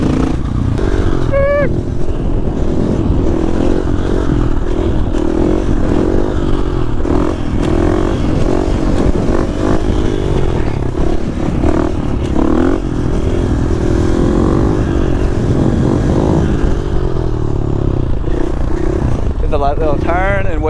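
Supermoto motorcycle engine running steadily while riding through city streets on a hot day, a loud continuous drone with shifting revs, clatter and wind, with a rider talking over it throughout.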